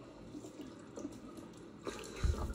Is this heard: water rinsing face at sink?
yes